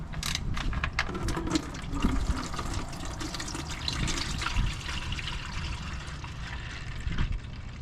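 Transmission fluid pours out of a drained Ram 1500 8HP70 transmission in a steady, fast gushing stream that splashes into a catch container, continuing without a break.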